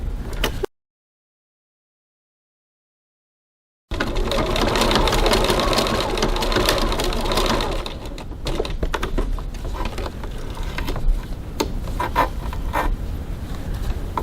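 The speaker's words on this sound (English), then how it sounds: "Now I'm just going to stitch very close to those little V's there" Sewing machine stitching close along the end of a bag pocket, a rapid mechanical chatter that cuts out for a few seconds, then runs on steadily with light clicks toward the end.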